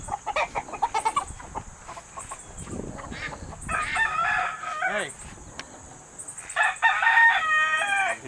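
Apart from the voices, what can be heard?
rooster crowing and chickens clucking on farm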